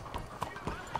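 A horse walks slowly through town in Red Dead Redemption 2, its hooves clip-clopping in a steady, close rhythm under continuous talk.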